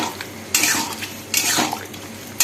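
A spoon scrapes and clanks around a pot of chickpea dal sweetened with jaggery in a few loud bursts, with quieter stirring between them.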